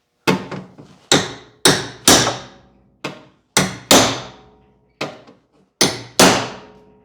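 Metal hammer blows strike the door bottom of a 1962 Cadillac Fleetwood Series 60, nine sharp, ringing hits in irregular pairs and singles, close and loud with no talking.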